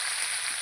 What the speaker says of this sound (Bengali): আলুটা ভালো করে একটু নাড়িয়ে দিলাম